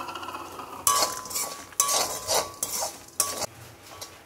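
A spoon scrapes and clinks in a pan while spices and grated coconut roast in ghee for Mysore rasam, several bursts of stirring separated by brief pauses over a faint sizzle, up close.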